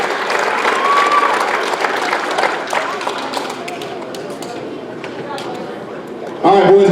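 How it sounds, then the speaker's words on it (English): A crowd claps for a group of boys at a football league awards banquet, sustained applause filling a hall for several seconds before a voice and a sharp clatter come in at the end. "Let's give these boys a round of applause."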